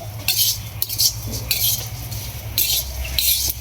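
Thin flattened rice (chira) fried and stirred in a pan, with repeated bright scraping and clinking bursts of a utensil against the metal over a steady low rumble, close and loud with no talking.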